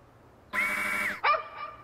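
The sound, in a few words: dog barking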